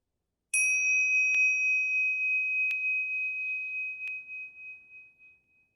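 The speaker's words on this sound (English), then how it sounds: "We can close the contemplation with the sound of the bell." A meditation bell is struck three times, about a second and a half apart, each strike ringing out with a bright sustained tone that slowly fades into silence.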